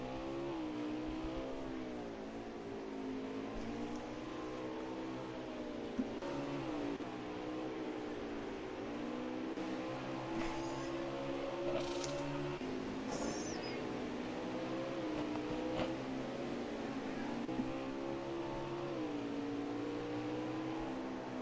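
Race cars in an Xfinity sim racing game at Mid Ohio, engines droning and rising and falling through gear shifts and revs, steady and continuous with no talk.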